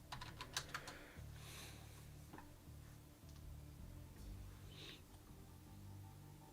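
Computer keyboard keys clicking in short irregular bursts, faint and close, with a steady low hum underneath and no voices.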